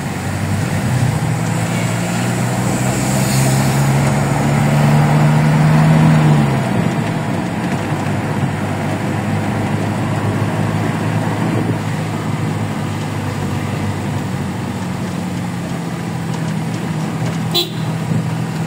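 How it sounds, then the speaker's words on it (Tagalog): Busy road traffic of cars and trucks on a street in Malabon, a steady loud rumble of passing engines with a long horn toot near the start. "Dami sasakyan, no?"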